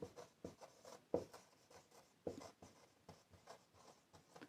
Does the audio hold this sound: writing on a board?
yes